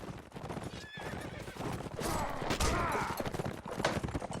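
Horse whinnying loudly in a multiplayer combat video game match, with hoof clip-clops and busy battle noise around it, including scattered gunfire-like bursts, as the rider is knocked off.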